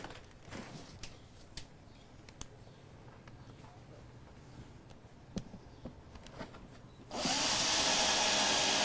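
A power drill with a Phillips bit whirs loudly and steadily near the end, driving screws into a self-watering planter's wicking basket, after scattered quiet clicks and handling noises.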